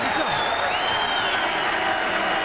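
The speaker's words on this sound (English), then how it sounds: "The crowd is reacting." A basketball arena crowd at a Nets versus Celtics playoff game cheers and applauds, a dense distant roar with whoops, while a commentator talks over it.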